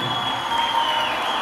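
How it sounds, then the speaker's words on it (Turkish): Crowd applause and cheering for a boy named Umut at a Turkish circumcision ceremony celebration, a steady, dense clapping wash that holds for the whole moment with faint voices mixed in. "Bir alkış alalım Umut Paşa için."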